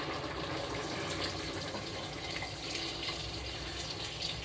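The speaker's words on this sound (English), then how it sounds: "We will have to add water." Water is poured into a cooking pot for a beef soup with ginger and tomatoes, a steady splashing, gushing fill that continues throughout at moderate volume with no talking.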